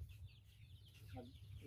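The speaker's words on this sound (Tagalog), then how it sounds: "Daming manok dito mga kaibigan." Chickens cluck faintly at a farmyard in the Philippines, a short soft burst of clucks over low background rumble.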